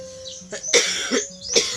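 A child's few harsh coughs close up, two or three bursts in quick succession with short gaps between.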